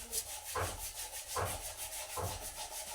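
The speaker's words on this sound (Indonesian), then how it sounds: "ternyata selip dia sangat-sangat berkarat. Terus disikat halus" A soft brush scrubs rust off a badik blade in slow, regular back-and-forth strokes, each a faint, close, gritty rasp about once a second.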